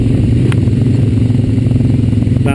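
A Honda Rancher 420 ATV engine runs steadily while riding on a trail, a loud close droning motor hum with a constant even pitch and no talk.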